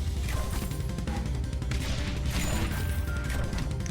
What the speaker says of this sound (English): Oh, those mortars.